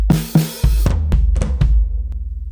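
A loud Roland electronic drum fill of quick booming rack and floor tom hits stepping downward, several strikes in a tight run before a low rumbling decay, no voices.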